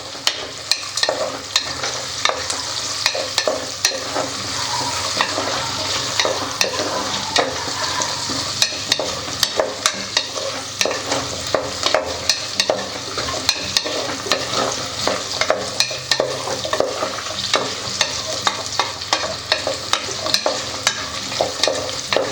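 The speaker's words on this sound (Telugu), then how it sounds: "దీంట్లో క్యారెట్ కట్ చేసుకున్న ముక్కలు, తర్వాత ఆలు వేసేసుకొని కలుపుకోవాలి" Carrot and potato pieces are stirred through tomato biryani masala in a hot pan, with a constant sizzle and repeated scraping strokes of the spoon for over twenty seconds, close up and with no talk.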